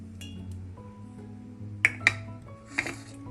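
Chopped green chilies dropped into a kitchen mixer jar for Onam sadhya inji thairu, giving a few sharp clinks of glass or metal at close range over a low steady hum, no talking.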